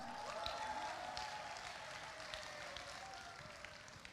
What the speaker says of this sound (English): please, I would like to hear more applause for Mr.